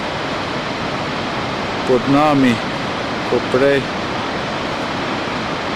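Wild blue-green river rushing through a gorge on the Tibetan plateau, a steady broadband roar of whitewater filling the scene, with two brief bursts of voices talking over it.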